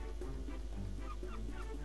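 Honking, quacking duck calls from the game Farm Mania 2 repeat in quick bursts over a steady low hum.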